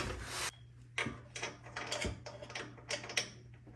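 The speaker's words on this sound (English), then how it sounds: "now go ahead and put our jack back under here. That way we can lift this up" A floor jack is pumped to raise a truck axle during a Bilstein leveling kit install, giving a series of ratcheting mechanical clicks and clunks over a steady low hum, close and moderately loud.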